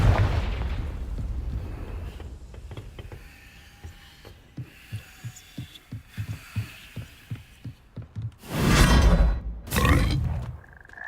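Confringo fire-blast spells in Hogwarts Legacy, a rapid train of short low thumps pulsing steadily for several seconds, then two big roaring bursts close and loud near the end.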